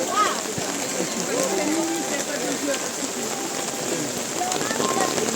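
Steady rain falls in the Arashiyama bamboo forest in Kyoto, a dense, even hiss filling the whole stretch, with crowd voices murmuring underneath.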